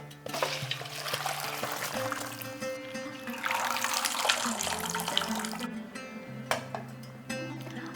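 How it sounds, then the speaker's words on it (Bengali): Hot water from blanched cabbage pours out steadily in a continuous splashing, gurgling stream, fairly close and at moderate level with a few brief surges. "এরপর জলটাকে আমি ড্রেন করে দেব।"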